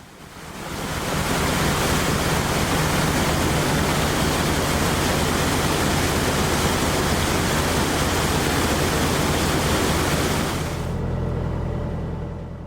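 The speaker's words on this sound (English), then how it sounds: "Paddles really let a lot of water in." Water gushes steadily and loudly through the paddles of a leaky canal lock gate on the Lancaster Canal's Glasson Branch, a dense continuous roar that drops off sharply near the end, leaving a lower rumble.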